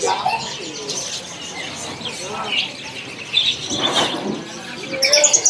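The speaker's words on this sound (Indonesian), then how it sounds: "di sini ada yang namanya burung pejantung pisang ya" A caged spiderhunter (pijantung pisang) gives short chirping calls at a bird shop, mixed with other birds' tweets and someone talking nearby.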